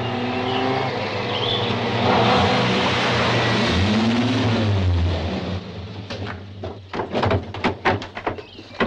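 A car drives past close by on a quiet country road, a loud engine roar that swells and falls away, followed by a run of sharp clattering knocks and bumps.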